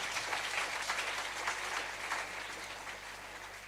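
A church congregation claps together in a dense, sustained wash of applause that carries on steadily and fades slightly toward the end, heard from a middle distance.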